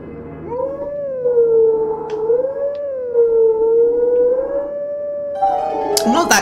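A wolf howl in Zelda: Twilight Princess: a long, smooth, wavering tonal call that holds and bends in pitch for several seconds, loud and alone, ending with a brighter burst of game sound.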